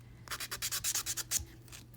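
Quick rhythmic rubbing strokes of a buffer block smoothing a dip-powder fingernail, about a dozen soft scratchy passes, close and fairly quiet.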